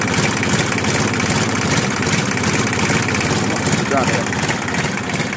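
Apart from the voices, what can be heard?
road roller diesel engine running after pump tuning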